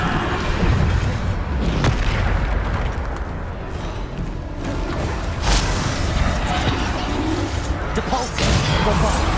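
Booming spell blasts and explosions from a boss fight in Hogwarts Legacy crash and whoosh again and again in a dense, continuous barrage, with spoken incantations between the hits.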